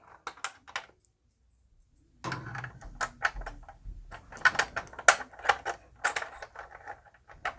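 Spring-loaded toy missiles being pushed into the launcher of a ToyBiz Batman 89 movie vehicle, giving a string of sharp plastic clicks and snaps, close and irregular, with a brief pause before more clicking.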